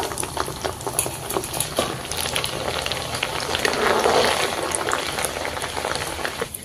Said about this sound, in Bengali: তেলটা গরম হওয়ার পর কিছুটা ডাল দিয়ে দিচ্ছি ভেজে নেওয়ার জন্য